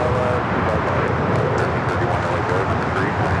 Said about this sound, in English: That is United Airlines 2113 taking off to Chicago on the